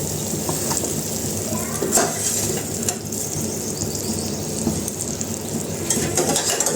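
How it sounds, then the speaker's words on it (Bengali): Rice going into a pot of boiling water, a steady bubbling, frothy rush with soft splashes and a few knocks against the pot, heard up close with no one talking. "এদিকে আমাদের জলটা উতরে গেছে এখন আমরা চালগুলো দিয়ে দেবো মানে বলক এসে গেছে জলে"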